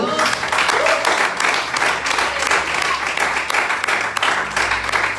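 Loud, sustained applause from a church congregation giving praise to God during a Spanish-language service, dense and steady throughout, with a low hum and faint voices underneath.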